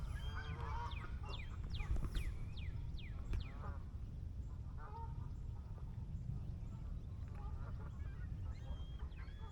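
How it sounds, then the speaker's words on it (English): A flock of geese on a beach at sunrise on a very still morning honks in scattered bursts at a moderate distance, over a low steady rumble and without talk. "The flock of geese that are over on the beach have been awake for a few hours."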